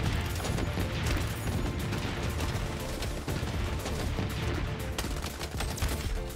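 Gunfire in the video game Bloodstrike rattles on in a dense, continuous battle din, with overlapping shots and rumbling blasts at steady loudness and no speech.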